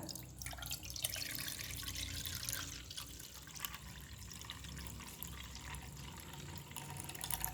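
Tamarind water poured into a pot while making summer panakam, a continuous splashing, trickling stream running steadily for several seconds at close range, with no talking.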